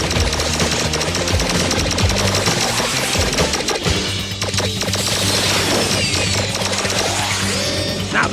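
Turret guns fire in an animated action battle, a loud, continuous mechanical hammering of rapid shots packed with crashing impacts and dense background music, holding steady throughout without pause.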